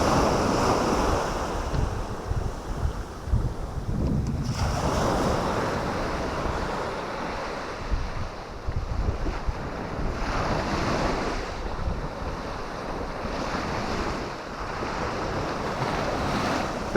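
Surf breaking and washing onto the beach at Hilston on the Holderness coast under steady gusting wind that buffets the microphone, with waves swelling in repeated surges and no voices.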